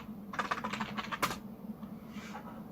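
Quick bursts of typing on a computer keyboard, close and fairly quiet, with clustered key clicks, a short pause, then a few more taps.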